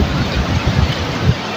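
A mountain river flows beneath a bridge on the road to Rasuwa, Nepal, as a loud, steady, close rushing wash with wind buffeting the microphone throughout.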